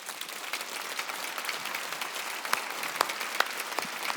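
A church congregation claps during a Wednesday worship service, a dense, steady patter of many hands with a few sharper claps standing out, moderately distant and filling the room without any voices.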